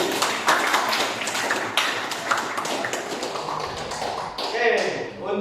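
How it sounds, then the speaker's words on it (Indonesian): Classroom applause for a student, with several people clapping unevenly in scattered bursts, close by, and voices chattering underneath. "tepuk tangan untuk Alkis."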